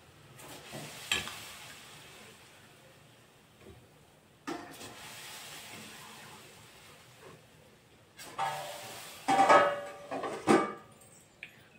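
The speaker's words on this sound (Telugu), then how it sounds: "అలాగే మిగతా బాల్స్ కూడా ఫ్రై చేసుకోవాలి." Gulab jamun dough balls fry in hot oil, making a soft sizzle with bursts of bubbling and scraping as more balls drop in and get stirred, loudest near the end.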